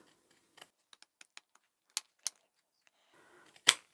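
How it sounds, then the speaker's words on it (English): Pinking shears snip through fabric curves on a small sewing coin pouch, giving a run of sharp, isolated clicks and a few louder crunchy snips, close up with no talking. "If you have pinking shears, you can trim the curves."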